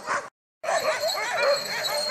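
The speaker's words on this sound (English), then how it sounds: "And the dogs are getting excited." Excited sled dogs at an Alaska sled tour bark and yip in a busy, continuous chorus after a brief silence.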